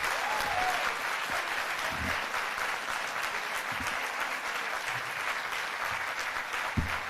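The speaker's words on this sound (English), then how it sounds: "let's give them a round of applause" An audience claps for the students in a summer youth employment program at a kickoff event, a steady and full round of applause that holds evenly throughout with no talk.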